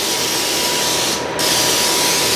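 Cooking spray hisses from a can onto a pan in a home kitchen, a loud, close, continuous spray lasting about two seconds with a brief dip near the middle, no voice over it.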